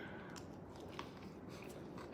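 Biting and chewing on a beef tongue taco indoors: soft, close crunchy and squishy bites, faint and steady, with no talking.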